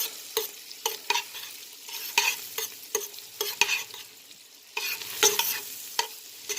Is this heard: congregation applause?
no